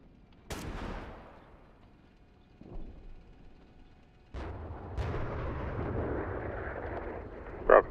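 Incoming fire and explosions in the Steel Beasts Pro PE tank simulation: a sharp blast, a fainter thud, then a heavy explosion followed by a sustained rumble and a final crack, loud and near.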